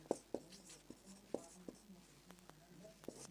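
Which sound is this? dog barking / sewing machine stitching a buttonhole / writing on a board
writing on a board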